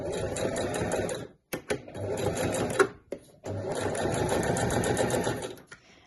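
A sewing machine back stitches PU fabric with a jeans needle, producing close, rapid mechanical chattering in three bursts separated by brief pauses.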